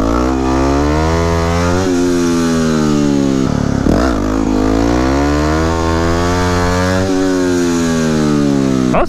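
A 2009 Yamaha WR250X supermoto engine revs hard and close, its pitch climbing through repeated rising sweeps in second gear with brief dips between them, loud and alone with no talk.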